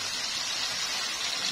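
Boiling water is poured into a pot of cow trotters, a steady close hiss and splash of liquid running continuously without a break.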